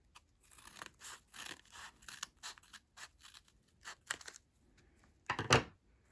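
Scissors snip repeatedly through the cloth pages and binding of a black-and-white textile book, a run of crisp close cuts in an irregular rhythm with a louder, longer crunching cut near the end.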